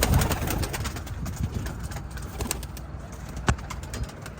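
Tumbler pigeons cooing and rustling close by, a steady low murmur of birds with soft wing flutters and a sharper flap near the end.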